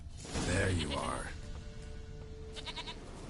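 Goat bleating in The Witcher 3: Wild Hunt, a wavering nasal cry early on, followed by quieter game ambience with faint mechanical ticks while someone speaks over it.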